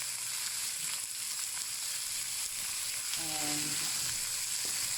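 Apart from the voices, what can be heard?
mincemeat and onions frying in a pan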